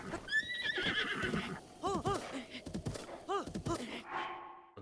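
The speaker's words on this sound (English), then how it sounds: "See if we could possibly tame this horse." A horse in The Legend of Zelda: Breath of the Wild gives several loud, close whinnies with rising and falling squeals, along with clip-clop hoofbeats and rustling game sounds.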